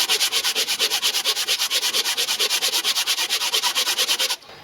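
Sandpaper rubbed by hand along the rails of an old milling table during restoration, a steady, close, rhythmic back-and-forth scrape of about five strokes per second, stopping abruptly just before the end.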